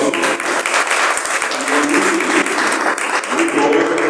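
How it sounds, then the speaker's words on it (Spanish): An audience at a poetry anthology presentation breaks into loud, sustained applause, a thick wash of clapping that carries on steadily without a pause. "como siempre, un aplauso"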